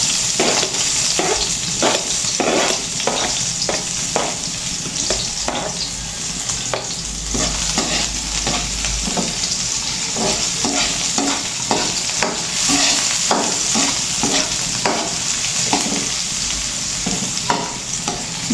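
Onion sautéing in a pan at a home dinner, a steady loud sizzle broken by repeated rhythmic scrapes and stirs of a spatula throughout.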